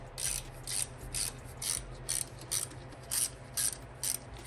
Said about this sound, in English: I'm gonna try to tighten it down as symmetrical as possible here